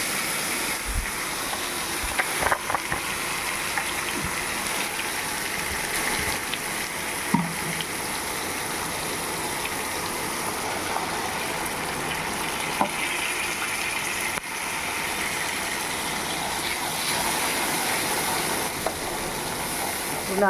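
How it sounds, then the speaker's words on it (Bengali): Water goes into a hot pan of frying vegetables in a home kitchen, and a steady, loud sizzle and hiss carries on throughout with occasional faint stirring knocks. "একটু জল দিয়ে দিই।"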